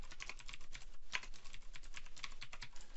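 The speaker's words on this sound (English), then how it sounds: "And then we are going to type in build." Quick, uneven taps on a computer keyboard, a close, quiet run of keystrokes with brief pauses and no talking.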